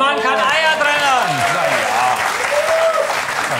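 Studio audience applause on a television cooking show, a loud sustained wash of clapping heard beneath lively voices and cheering exclamations that sit on top of it throughout.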